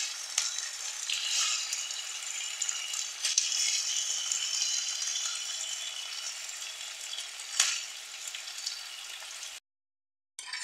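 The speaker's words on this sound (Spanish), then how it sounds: "a que se cueza la carne, que se fría bien, bien, bien" Bistec, beef steak, frying in a pan for Mexican-style beef, a steady close bright sizzle with small pops and crackles, continuing unbroken until a brief cut near the end, no talking.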